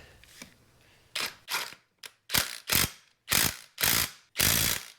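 A ratchet wrench tightens the front lower control arm bolt on a 2009-2015 Honda Pilot, with eight crisp, loud bursts of rapid clicking, separated by brief pauses, close by and without talk.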